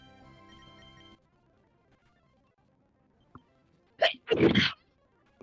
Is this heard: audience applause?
no